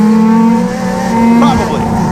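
Race cars accelerate together from a green-flag start in a NASCAR Division III enduro, a steady loud engine drone with a sustained low tone and a brief squeal-like burst midway, under continuous race noise.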